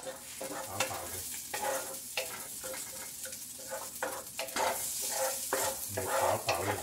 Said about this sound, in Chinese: 如果你有蝦米嘅，落咗蝦米先，蝦米先，炒爆佢